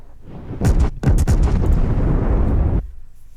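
Artillery barrage in an animated Battle of the Bulge scene near St. Vith, with several sharp blasts and booms in quick succession, then a dense, loud rumble of continuous shellfire that cuts off abruptly.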